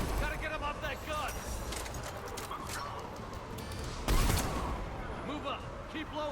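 Repeated bursts of gunfire from a mounted gun in Mass Effect 3, rattling volleys running under overlapping game voices, with one loud impact partway through.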